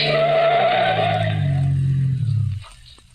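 Car tires screech in a long, loud skid as the vehicle swerves off a road at a curve, a radio drama sound effect, the squeal sliding lower in pitch before stopping abruptly.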